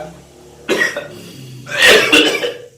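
Two rough, hoarse coughs close by, the second louder and longer, with faint voices murmuring underneath.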